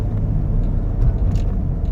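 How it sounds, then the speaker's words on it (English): A 1996 Jeep Cherokee engine with 11,000 original miles revs under light throttle, a steady close low rumble with a slight swell in the middle and no voices. "Give the car a little bit of gas."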